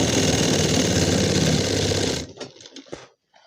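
A sewing machine stitching a pant seam runs in a steady, loud mechanical whir for about two seconds, then stops, followed by a few faint handling clicks.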